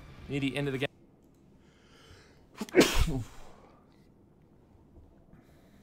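A single sharp sneeze bursts out about midway, loud and close, from someone during a live game stream, after a stretch of talking at the start.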